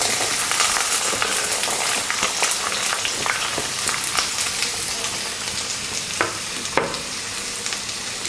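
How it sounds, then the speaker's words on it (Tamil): A quarter kilo of small onions frying in hot oil for Chettinad chicken curry, with a loud, continuous close sizzle crackling throughout and occasional stirring clicks. "ஆயில் சூடானதும் நான் இங்கே சின்ன வெங்காயம் ஒரு 1/4 கிலோ எடுத்திருக்கேன்"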